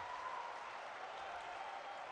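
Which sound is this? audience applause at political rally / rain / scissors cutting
audience applause at political rally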